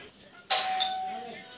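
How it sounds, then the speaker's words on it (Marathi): A household doorbell in a Mumbai home chimes twice in quick succession, loud and close, its bright ringing tones sustaining and slowly fading after a quiet lead-in. "बेल वाजली आहे."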